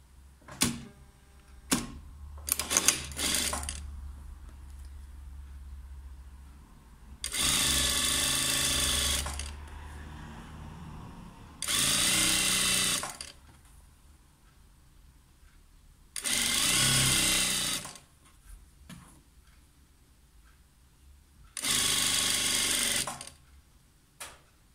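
Sewing machine stitching a 5 cm sleeve hem on a blouse, four loud bursts of rapid mechanical whirring separated by quiet pauses with light handling clicks and rustles.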